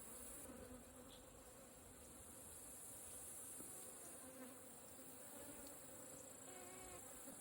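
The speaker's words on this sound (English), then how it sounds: "see if you can hear all of the bees and stuff buzzing around on this" A faint, continuous insect buzzing fills the air outdoors around tall goldenrod flowers, steady hum of bees with a high hiss behind it, no voices.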